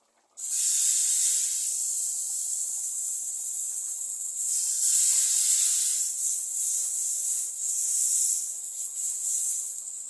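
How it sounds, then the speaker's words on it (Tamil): Steady, loud sizzling hiss from dosa batter hitting a hot stone griddle, continuous for several seconds with slight swells in intensity, no talking. "அதனால் கல் தோசை ஊற்றிக்கிறேன்."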